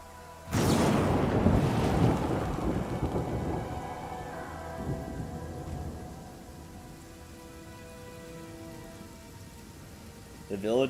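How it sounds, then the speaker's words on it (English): A deafening thunder clap crashes in the video game Pathfinder Kingmaker as a lightning strike hits a tree in a village, a loud sudden crack rolling into a long fading rumble over steady rain. "The village is interrupted by a deafening clap of thunder as a bolt of lightning cracks down and scorches a huge tree in the middle of the village."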